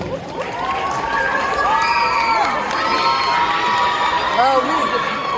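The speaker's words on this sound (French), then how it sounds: "merci d'applaudir bien fort Yozuki" A crowd cheers and shouts for a cosplayer at a Japanese culture convention costume contest, many voices including children's rising in sustained whoops and calls, loud and continuous with light clapping underneath.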